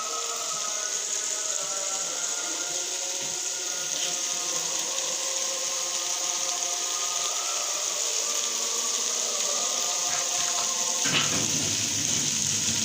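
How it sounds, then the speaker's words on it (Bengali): Water poured steadily into a pot of chicken curry, a continuous rushing splash lasting throughout with a slight change in tone near the end. "আর দিয়ে দিচ্ছি পানি, পরিমাণ মতন পানিটা দিয়ে দিব।"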